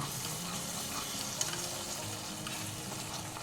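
Curd bhindi masala sizzles and fries steadily in oil after water goes in, a dense, even crackle with a small pop partway through and no voices.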